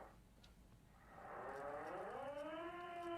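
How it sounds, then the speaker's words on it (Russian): A police siren wails in the video game Disco Elysium, rising from a low tone into a loud, sustained, slowly climbing howl that grows stronger toward the end. "Вся обвешана полицейскими сиренами."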